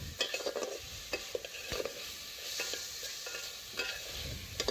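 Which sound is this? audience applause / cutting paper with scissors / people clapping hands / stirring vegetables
stirring vegetables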